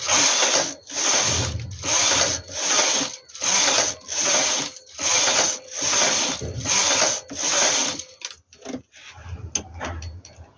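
Knitting a baby sweater, a machine carriage sweeps across the needle bed in eight regular, loud mechanical whirring passes, each separated by a brief pause, followed by quieter clicks and handling sounds with no talk.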